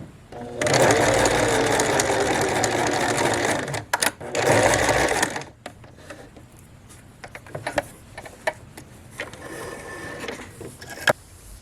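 A sewing machine stitches a twin needle hem on stretchy pants, running in two loud close bursts of fast mechanical chatter, then stopping; scattered clicks and handling taps follow as the work is finished off, with no talking.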